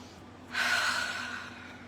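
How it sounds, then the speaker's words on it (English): A single long, audible breath in starts about halfway through and trails off slowly, soft and close with no talking. "Let's take a breath together."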